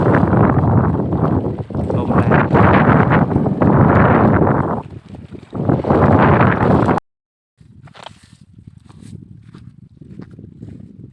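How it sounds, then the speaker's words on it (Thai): Strong wind sweeps over the Lam Pao reservoir with wind-driven waves, loudly buffeting the microphone in a roaring, gusty rush for about seven seconds, then a brief cut and a much quieter breezy background. "คลื่นลมแรงมากเลย"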